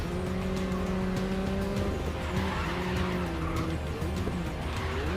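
Racing car in the GRID Legends video game braking hard into a skid, with sustained engine drone and tire screech running steadily and loudly throughout, no voices.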